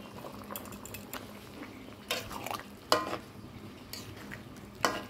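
A spoon stirs a poppy seed paste simmering in a pan, giving soft intermittent scrapes and clinks with a few sharper metallic knocks over a low bubbling background; no voices.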